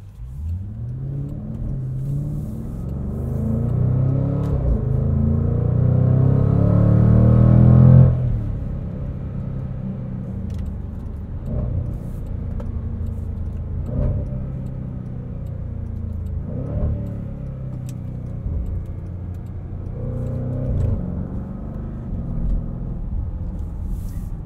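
A 2021 Jaguar F-Pace SVR engine and exhaust growl hard under acceleration and peak at a loud rev. A sharp drop follows, then repeated pops and crackles between gear shifts as the engine settles into a steady drone.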